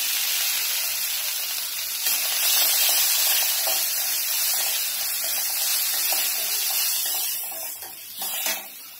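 Cumin seeds and asafoetida dropped into hot oil in a home kitchen pan, with mustard seeds already popping, give a steady bright sizzle and hiss that runs close and fairly loud throughout, swelling slightly midway and fading near the end.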